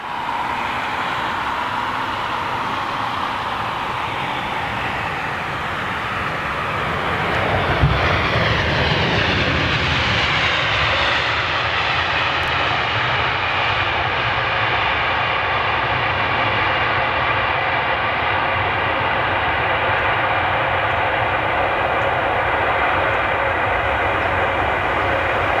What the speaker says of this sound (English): that spool down noise is just fantastic